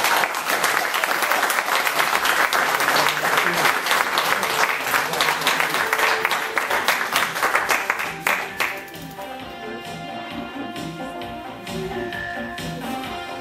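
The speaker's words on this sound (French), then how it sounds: "je crois qu'on peut encore applaudir" Sustained applause from an audience at a French political rally in Corrèze, dense and loud for about eight seconds before thinning and fading as music-like tones take over.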